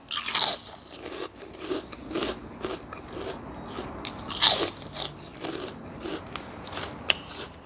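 Crunchy bites of crisp vegetables and crispy pork rinds eaten with Thai pork noodle soup topped with fried garlic, a series of close crackling chews and bites in an irregular rhythm with no talk.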